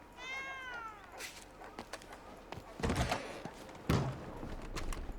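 A cat meows in Red Dead Redemption 2, one clear rising-and-falling meow near the start, followed by scattered thumps and soft knocks.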